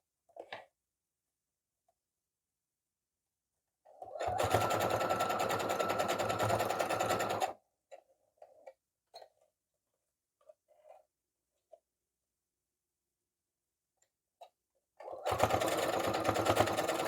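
An electric sewing machine stitches all the way around the edge of a fabric page, running in two steady bursts of several seconds each, separated by quiet handling noises and small clicks.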